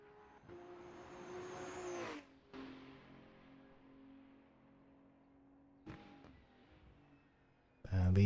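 Race cars in a motor race: engines swell and cut off sharply in several separate bursts, with a loud roar returning at the very end.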